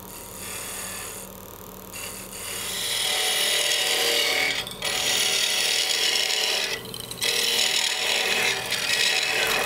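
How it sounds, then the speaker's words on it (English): Sandpaper rasps against a spinning wooden goblet on a wood lathe, a loud steady hiss that swells and briefly drops a few times as the paper is lifted and reapplied, with no talking. "all I'm gonna do is sand a little bit and then we're gonna part it off"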